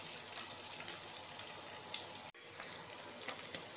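Chopped onion frying in hot oil with whole spices (bay leaf, dried red chilli, cinnamon, green cardamom) for a rohu fish roe kalia, a steady close hiss and crackle with no voices and one brief dip partway through.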